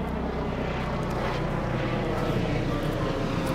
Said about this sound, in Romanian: Avem și elicoptere.